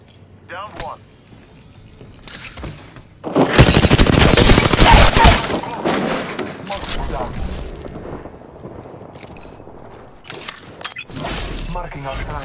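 Incoming gunfire in a video game, a loud burst of rapid shots and impacts rising sharply in the middle, surrounded by scattered quieter cracks and game effects, with voices speaking over parts of it.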